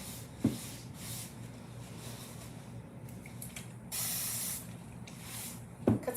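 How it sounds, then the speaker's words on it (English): Short hissing bursts from a spray bottle misting water onto a craft surface, a few quick spritzes with a faint mechanical trigger click, close by and fairly quiet. "Just going to spritz it right here."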